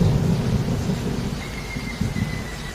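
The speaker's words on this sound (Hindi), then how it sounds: "बारिश होने लगती है।" Steady rain falling in a storm, with low rumbles of thunder rolling underneath, a continuous dense wash of sound and no voices.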